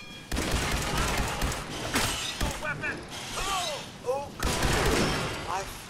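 Bursts of gunfire in Fallout 4 sound in a busy mix, with clattering mechanical clicks and a voice talking over the shooting.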